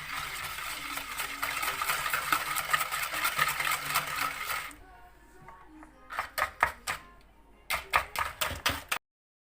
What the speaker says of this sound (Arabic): ونضيفو عاوتاني سنيده، نطربوها هي والبيض مزيان